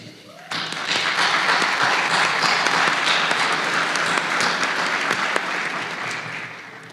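Warm, loud audience applause at a university convocation rises suddenly and holds as a dense, continuous wash of clapping for nearly seven seconds before easing slightly.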